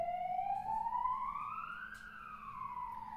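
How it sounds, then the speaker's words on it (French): A wailing siren rises and then falls in pitch, loud and continuous, over the steady hum of a noisy city neighbourhood, with no talking. "Ah, ça y est, il y a les sirènes."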